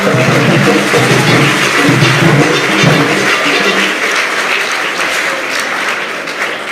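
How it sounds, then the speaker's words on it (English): Audience at a school gardening launch at a Ghanaian senior high school gives a sustained round of applause for a minister, broad steady clapping that fades slightly toward the end. "Please, a hand of applause."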